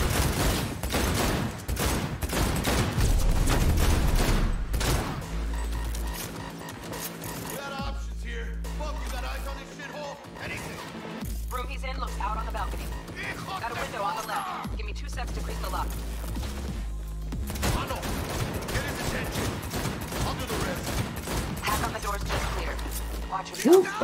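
Enemy gunfire in Cyberpunk 2077 comes as rapid automatic bursts, dense at first, then sporadic shots over game sounds with pauses, and heavy firing returns near the end.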